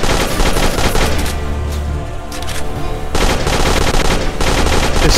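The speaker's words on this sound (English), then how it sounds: "Oh, it's shooting the scarecrows." In the farming shooter game Dead Acres, a machine gun fires on scarecrows in dense, loud automatic bursts, broken by brief pauses between volleys.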